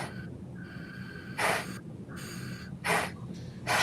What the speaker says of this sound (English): we can hear you breathing